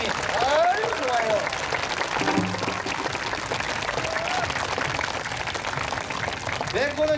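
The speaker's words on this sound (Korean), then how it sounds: "이렇게 오신 분들께서 박수를 많이 쳐주시면" Outdoor crowd claps along at a namsadang folk street performance in Gwanghwamun Square during a hanbok festival, a steady wash of applause with voices shouting and talking over it.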